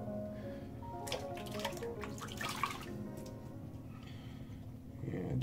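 A shaving brush is rinsed under running water, a faint splashing and dripping trickle with irregular bursts of spatter, quiet and close.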